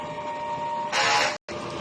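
A DTF printer runs its head-cleaning cycle, a brief mechanical hum and whirr that swells into a louder rushing burst, cuts out for an instant, then resumes.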